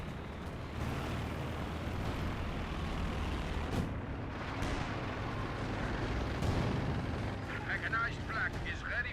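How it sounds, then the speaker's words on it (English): Heavy artillery barrage rumbles and booms continuously in a Company of Heroes 2 battle, dense low explosions with scattered sharper blasts and crackles, loud throughout with a voice talking over it. "up here we got some sort of artillery barrage running on in"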